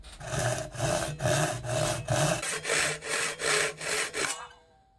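A short hand saw resaws a wooden board, about a dozen rhythmic rasping strokes, close and loud, quickening slightly before stopping.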